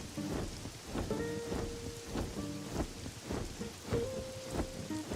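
Steady rain with rolling thunder rumbles in the video game Pokopia, a continuous storm bed at moderate level with faint musical tones drifting over it and no talking.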